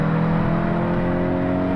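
A loud, steady engine drone with rising harmonic tones as a MK8 VW GTI and a Golf R accelerate hard side by side in a drag race, heard close up without talk.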